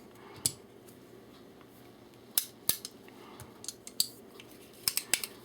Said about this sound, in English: Then I'm going to take my frame, let's cock it.